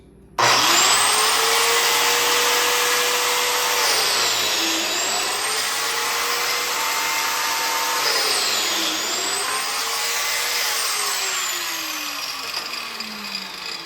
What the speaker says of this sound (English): got my biscuit joiner here, and I'm going to get me a couple of biscuit joints